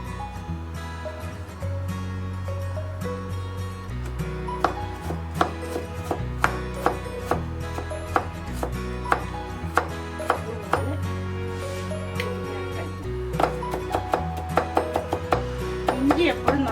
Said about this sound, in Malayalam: അത് കൂടാതെ ചെറിയൊരു പച്ചമുളക്, അത് ചെറുതായി പൊടി പോലെ അരിഞ്ഞ് അതും ഞാൻ ചേർക്കുന്നുണ്ട്.